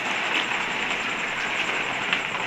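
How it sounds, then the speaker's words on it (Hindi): Heavy night rain during a storm pouring steadily against a window grille, a continuous dense hiss with slight surges, close and unbroken, no voices. "बारिश है जो इस खिड़की से भी अंदर आ रही है"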